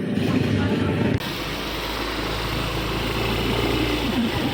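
Motorbike engine idling and revving on the way to a fish pond, a steady buzzing drone that changes tone after a sudden cut about a second in, fairly close, with no talk.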